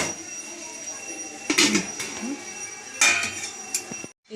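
A lid clanks onto a metal pot of chicken stew, two or three sharp metallic knocks and rattles against a steady background hum, with no talking.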